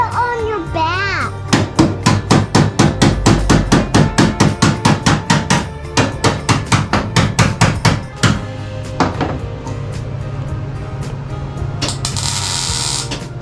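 A big hammer pounds on the metal floor of a Toyota pickup truck cab during a body drop, loud rapid ringing blows in long bursts with short pauses, then scraping and a brief hiss, with voices talking nearby.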